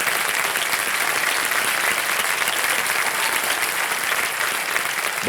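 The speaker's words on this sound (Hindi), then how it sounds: "जोरदार तालियां बच जाए उनके लिए।" A television quiz show studio audience breaks into loud, sustained applause, a dense steady roar of clapping with no pauses and no voices over it.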